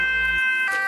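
A brief, close burst of an ambulance siren, a steady bright tone over a low rumble that drops away partway through.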